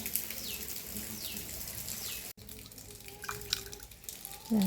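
Collected rainwater trickles from a glass into a potted plant, a soft, close pouring and dripping sound with faint birds chirping in the background.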